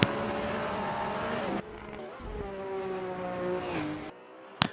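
Touring car engine roaring at Spa in a racing video game, a sustained high revving drone with gear shifts, the pitch steady in sixth gear, then dropping off near the end with a brief sharp click.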